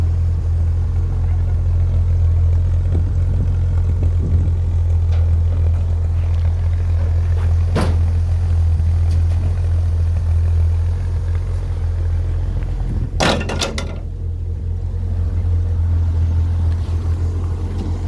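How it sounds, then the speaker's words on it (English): A 1946 Chevrolet pickup's straight-six runs at a steady idle, a deep, even rumble close by that holds throughout, with a couple of brief clunks or knocks partway through. "Lovely straight 6. I can just run them all day long."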